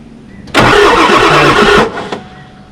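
An old Ford F350 truck that sat for years cranks on brake cleaner: a loud, close burst of starter churning and engine noise lasts just over a second, then cuts off to quiet, with a faint trailing clatter.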